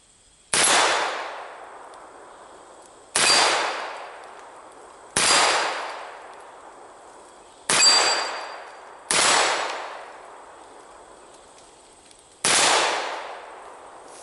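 Six loud shots from a Smith & Wesson 586-8 revolver fired double action, each a sharp crack with a ringing decay outdoors, spaced about two to three seconds apart, with no talking.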